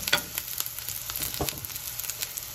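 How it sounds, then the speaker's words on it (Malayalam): Dried red chilies and onions fry in oil while being stirred, with a constant crackling sizzle and quick, repeated spoon scrapes close by. "ഇനി വറ്റൽമുളകിട്ട് ഇളക്കിയെടുക്കുക."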